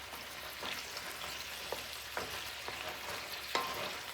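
Carrots and turnips frying in olive oil in a hot pan, a steady crackling sizzle with occasional sharper pops and stirring scrapes, close and moderately loud with no voices.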